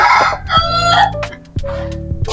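A rooster crows loudly nearby, the call repeating with clucking hens in the background.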